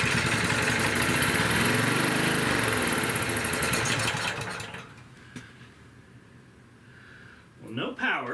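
A Honda EM2500 generator engine runs loud and rough, surging with a rhythmic pulsing, then dies out to near silence before a brief sputter near the end; talk is faintly present.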